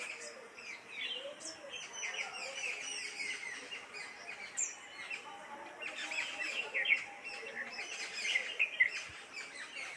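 Birds chirp and tweet continuously at a moderate distance, several calls overlapping in a busy, fairly quiet chorus.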